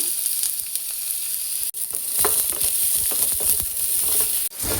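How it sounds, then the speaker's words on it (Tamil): Garlic crisping in a little oil in a pan sizzles loudly and continuously, with dense crackling and a couple of brief dropouts as it is stirred. "நல்லா கிறிஸ்பினஸாக வர அளவுக்கு பூண்டை வறுத்துக்கலாம்"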